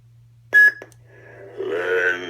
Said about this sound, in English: push and hold the power button until it beeps at you, it'll cycle to the next sound font